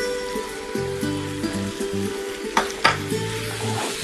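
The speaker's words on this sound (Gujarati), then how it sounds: "આની સાથે જે પાસ્તા છે, હાફ કપ જેટલા પાસ્તા એડ કરી દઈએ." Boiled pasta, about half a cup, tossed into a pan with basil, sun-dried tomato and olives, crackling with a steady close sizzle and a few scraping stirs, no talking.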